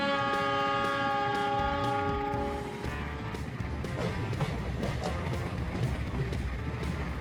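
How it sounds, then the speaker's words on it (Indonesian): A train horn sounds with a steady chord, then gives way to the rumbling clatter of rolling carriages. "mereka berdua pun bersama-sama menarik dan mendorong kereta mewah itu"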